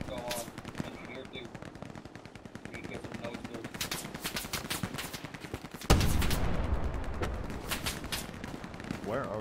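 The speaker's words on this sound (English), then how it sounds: "Where are we getting shot?" Sustained machine-gun fire and scattered gunshots in the video game Hell Let Loose, fast rattling bursts close by with a louder blast partway through, as voices talk under the shooting.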